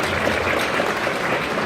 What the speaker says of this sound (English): I think that was an applause.